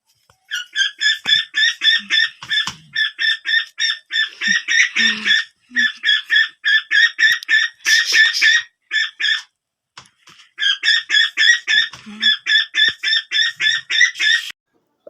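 A duck kept near a calf quacks loudly and close in long runs of rapid, repeated calls with brief pauses between them, going on almost without stopping.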